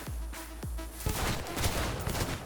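Revolver gunfire from the DR5 Nova in the video game Cyberpunk 2077: two heavy, booming shots in quick succession, followed by a denser burst of crackling impacts and clatter, loud throughout with no talk.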